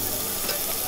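A thin slice of meat sizzling on a hot grill, a dense, steady close-up crackle and hiss filling the whole moment.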